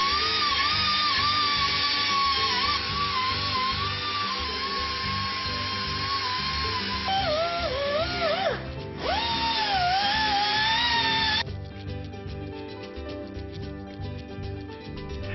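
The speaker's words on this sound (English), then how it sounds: "make sure the rust is removed from the hub assembly to avoid cocking on either the rotor or the mounting bracket" Rust being removed from a car wheel hub assembly during a brake job with a power tool, a loud, continuous high-pitched grinding whine that wavers in pitch under load, then settles into a steadier buzz.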